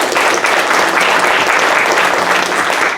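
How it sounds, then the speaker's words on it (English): Audience at a county supervisor candidate forum giving a loud, dense round of applause, continuous many-handed clapping from start to finish with no pauses. "So let's give them a round of applause."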